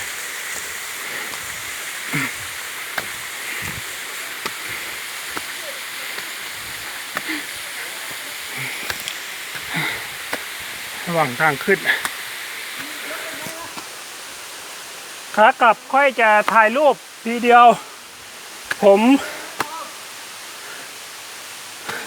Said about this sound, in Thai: น้ำตกอยู่ที่หมู่บ้านแม่คำป้อม เขาบอกว่าเป็นน้ำตกเล็ก ๆ ก็เล็กจริงแต่ก็สวยหลายชั้น